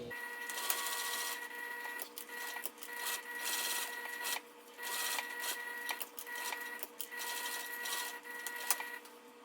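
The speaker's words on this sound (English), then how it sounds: "I'm just going to top stitch 1/8 of an inch away from this folded edge of the cotton" A sewing machine top stitches cotton near a folded edge, making a busy, whirring mechanical chatter that runs in bursts with brief pauses, close and fairly clear, with no talking.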